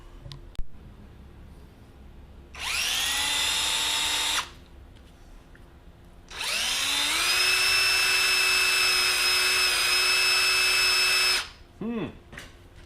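A power drill whines in two bursts, the second longer and straining as the bit grinds into a hardened steel shift shaft from a Yamaha XS650 motorcycle, then winds down.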